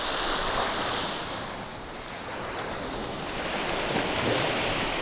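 Surf washing onto Orient Bay beach on St. Maarten in the Caribbean, a steady close roar of breaking waves with wind buffeting the microphone throughout, swelling slightly near the end.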